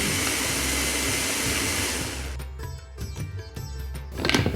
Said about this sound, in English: whisk it till it's absolutely frothy.